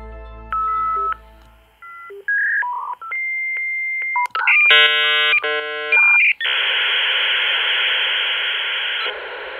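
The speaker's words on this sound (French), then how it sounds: "ce son que nous entendions lorsque nous décrochions le téléphone sans savoir que quelqu'un utilisait l'Internet" A dial-up internet modem connects over a telephone line: dial tone and rapid DTMF digits, then a sequence of handshake tones and warbles, ending in a loud sustained hiss of static, all alone with no voices.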